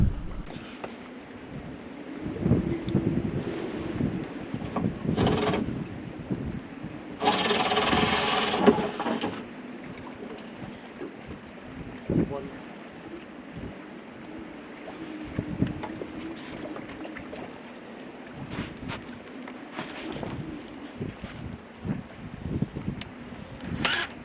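Strong, relentless wind blows outdoors, rumbling and gusting steadily against the microphone, with louder buffeting bursts and occasional faint knocks throughout.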